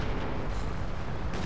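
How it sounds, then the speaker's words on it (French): Battle sounds from Company of Heroes 2: a dense, rumbling wash of gunfire and artillery booms, loud and continuous with a sharper burst near the end, no talk over it. "Ils ouvrent le feu sur nous."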